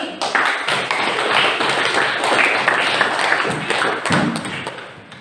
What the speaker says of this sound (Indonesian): Tepuk tangan untuk kelas ini.